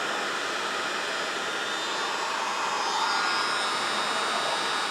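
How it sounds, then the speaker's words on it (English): A heat gun blows a steady, even airy roar while shrinking heat-shrink tubing over wires on a Snapper rear-engine tractor's electric starter wiring, continuous and close for five seconds with no talking. "Heat shrink that thing up on that side."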